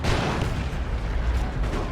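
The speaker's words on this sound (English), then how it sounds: "They're getting pulverized by a Vanquisher cannon." Vanquisher tank cannon fire in the strategy game Warhammer 40k Dawn of War 2: Retribution, dense booming blasts and rumbling battle noise filling two seconds, loud and continuous, no talk.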